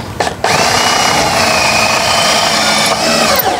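A power drill drives screws into wood while building a chicken feeder, a loud, close, high motor whine after a couple of quick starts, running steadily for about three seconds before winding down.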